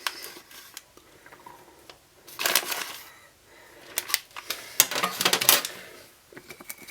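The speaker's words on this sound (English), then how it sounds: "a good grind of salt in there as well" A salt grinder is twisted over seasoning for air-fried chicken, giving short bursts of close, gritty crunching. One grinding burst is followed by a quiet gap and then a longer run of grinding, with no one talking.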